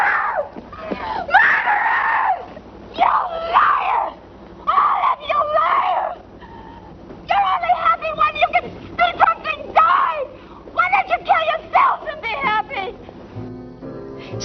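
A woman screams in anguish in a scene from the film The Misfits: repeated loud, drawn-out wailing cries in bursts separated by short pauses, with some sobbing between them and a low background hum.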